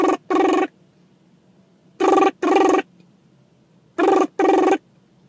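A telephone rings in three evenly spaced double-ring bursts, each pair of short electronic trills loud and close, with quiet gaps between them and no talking.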